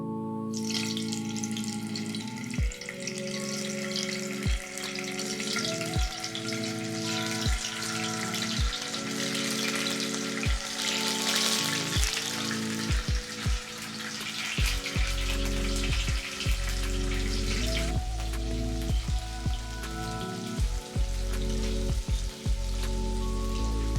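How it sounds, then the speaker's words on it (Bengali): Paneer pieces sizzle in hot oil in a kadai, a steady close crackle of frying with repeated clicks and knocks of handling, no talk. "তেল গরম হয়ে গেছে, এখন পনির ভেজে নেব"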